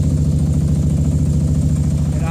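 A Moto Guzzi motorcycle engine idles steadily just after starting, a close, continuous low throb with a regular pulsing rhythm that holds level throughout.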